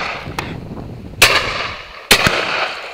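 Shotgun fired at a high-flying bird outdoors, two sharp, loud shots about a second apart, with a fainter pop earlier and quiet ambient noise between.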